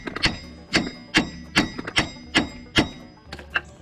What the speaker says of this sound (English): Give it a few turns of the threads. And just beat on it.